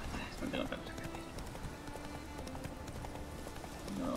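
Horse hooves clip-clop in a steady gait in The Witcher 3 video game, heard under continuous talking, with game ambience behind them.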